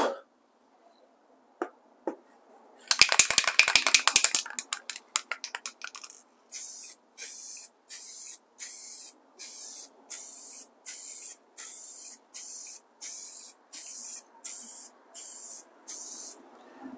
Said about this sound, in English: let's sling another coat on here and see what we get this time